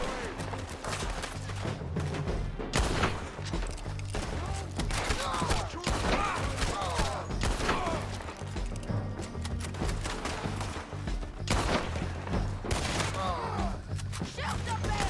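Gunfire in the video game Red Dead Redemption 2: dense, rapid volleys of shots and thuds run through the whole stretch at a steady, loud level, with other game sounds mixed in.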